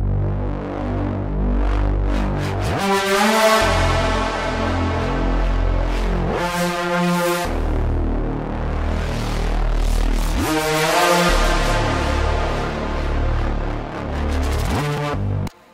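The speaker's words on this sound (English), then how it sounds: "so many people ask me how I made this Reese Bass in my Anima tutorial." Reese bass synth built in Serum: a thick, detuned, throbbing low drone that holds sustained notes with slowly shifting phasing, loud and upfront, changing pitch a few times before cutting off at the end.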